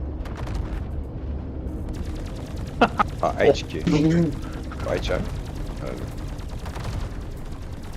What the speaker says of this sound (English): One shot of the Medusa cannons rips off engines